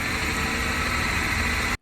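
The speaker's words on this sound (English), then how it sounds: "Not only did the engine seem to rev healthily" A Honda Insight hybrid engine, pulled from a junked car, runs with a steady, close, broadband hum and vibration that holds evenly for nearly two seconds, then cuts off abruptly.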